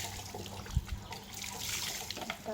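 Water runs continuously from a tap during a pet dog's shower at home, with a soft steady splashing, a couple of brief thumps early on, and faint household sounds in the background.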